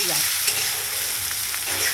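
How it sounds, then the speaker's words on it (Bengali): Radhuni seeds and dried red chili sizzle sharply in hot oil as tempering for masoor dal with ash gourd, a dense close crackle lasting the whole moment with no talk. "ফোড়ন দিলাম রাঁধুনি, শুকনো লঙ্কা আর"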